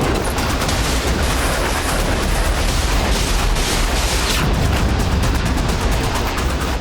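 Dense, continuous barrage of gunfire and booming blasts from the Armenia–Azerbaijan war, a huge explosion in a populated area, loud and relentless throughout, with no pauses and no voices.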